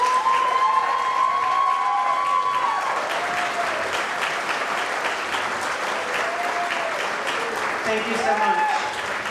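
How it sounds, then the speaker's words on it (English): An audience at a Chamber of Commerce Diamond Awards ceremony applauds the standing nominees, with steady, full clapping throughout and a brief spoken thanks near the start. "a huge round of applause to these folks for what they're doing"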